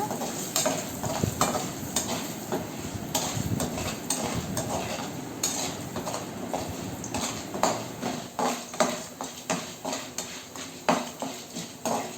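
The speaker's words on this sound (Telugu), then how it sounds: "నల్లేరు పచ్చడి తాలింపు పెట్టుకుంటున్నాను" Spices and onions sizzle and crackle in hot oil for tempering a chutney while a utensil stirs and scrapes the pan in a steady, clattering rhythm.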